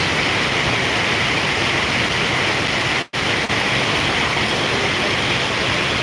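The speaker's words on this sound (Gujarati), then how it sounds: "ફૂલ જોશમાં વરસાદ ચાલુ થઈ ગયો" Steady, dense roar of heavy rain pouring down, broadband and unbroken, with one brief dropout midway.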